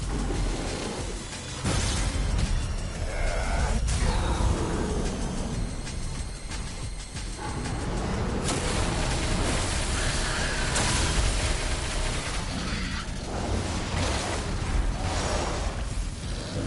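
Dense, roaring explosions and blasts fill the whole stretch of Devil May Cry 5 combat, loud and continuous with heavy rumbling bursts and a brief lull around the start.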